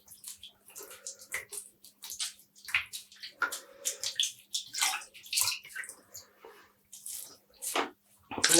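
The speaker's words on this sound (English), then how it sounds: "Squeeze out the water" Wet dyed yarn squeezed by hand at close range, releasing a series of irregular splashes, drips and squelchy trickles of water, ending in a louder gush.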